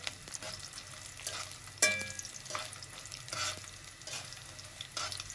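Gond, edible gum, frying in hot ghee over low heat, a steady close bubbling sizzle with a few sharper crackling bursts and stirring scrapes, no voices.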